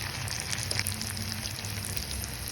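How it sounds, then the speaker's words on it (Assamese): Onions and fish belly fry in a little oil for an Assamese fish dish, giving a soft, continuous, fairly quiet sizzle with no talking. "পিঁয়াজ জ্বলাই এনেকৈ অলপ তেলত দি পেলাই আমি মাছৰ পেটুখিনি দি"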